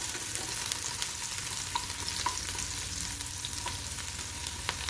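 Finely chopped onion fries in hot oil, a continuous even sizzle with small pops and faint stirring, close and unbroken.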